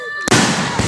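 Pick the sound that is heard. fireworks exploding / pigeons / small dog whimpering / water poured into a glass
fireworks exploding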